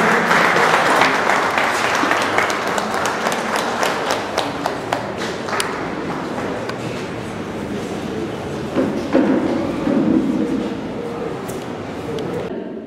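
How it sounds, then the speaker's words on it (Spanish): An audience at a public meeting in Lurigancho-Chosica applauds a regional official with loud, sustained clapping that gradually thins and tapers off, while a few thumps and scattered claps stand out near the end. "para quien pido un fuerte voto de aplauso"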